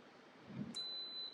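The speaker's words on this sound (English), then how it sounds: "we're going to hear the beep from this pressure cooker" Single electronic beep from an Instant Pot pressure cooker, a short steady tone heard alone at moderate level after a faint soft thump.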